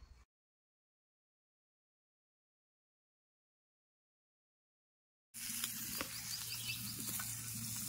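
Chicken frying in oil on a clay roof tile: a steady, close sizzle that starts abruptly after a long silence and carries on to the end, with faint scraping.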